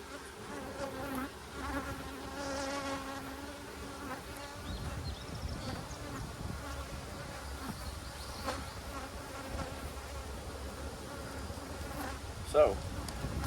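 Honey bees from an opened Demaree hive drone in a steady, dense buzz throughout, close and continuous with no talking.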